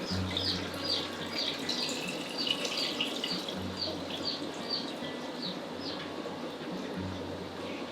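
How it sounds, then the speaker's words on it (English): Lime water pours over stored eggs for water glassing, a continuous trickling, splashing flow with faint birdsong in the background. "And then you pour it in your eggs, over your eggs."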